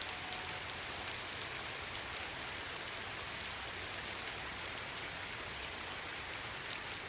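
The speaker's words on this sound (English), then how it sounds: "Rains pretty well here. Just look at all that droplets on the lake," Steady rain pattering onto a pond at a rural homestead, a dense, even hiss of droplets holding constant through the whole stretch with no voices.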